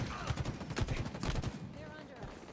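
Rapid bursts of gunfire rattle in a Halo video game match, dense and repeated, mixed with other game sounds and some talk.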